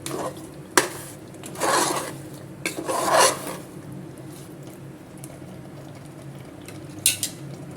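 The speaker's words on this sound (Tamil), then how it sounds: "மசாலா போட்டு ஒன்று போல் நல்லா கலந்து விட்டு தேவையான அளவுக்கு உப்பு சேர்த்துக்கணும்" Masala chicken curry being stirred in a pot, a few scraping, rasping strokes of a spoon against the pot in short bursts, separated by quieter gaps, close and fairly loud with no talk.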